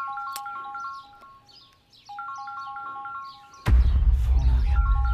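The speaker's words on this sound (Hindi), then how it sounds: "फोन आ गया" A phone rings with a repeated electronic ringtone, short melodic beeps in bursts that pause and resume, before a sudden loud rush of broadband noise covers the last part while the ringing goes on.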